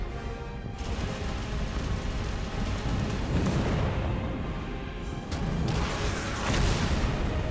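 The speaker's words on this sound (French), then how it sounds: "Les explosions, elles sont pas ouf." Continuous rumbling blasts and booming explosions in the video game Stellar Blade, dense and loud, with sharper bursts cutting through the roar.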